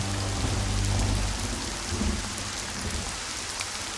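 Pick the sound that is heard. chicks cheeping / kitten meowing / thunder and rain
thunder and rain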